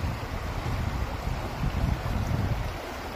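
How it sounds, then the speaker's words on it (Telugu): Water runs over mossy rocks near the Kanaganapalli temple, a constant low rushing roar with windy buffeting, close and continuous without pause. "చూడండి, నీరు వస్తుంది."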